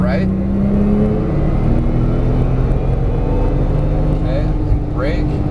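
A Porsche 911 Turbo S accelerates hard around a race track, its engine a loud, steady drone with a whining tone that climbs and shifts near the end, heard up close from inside the car.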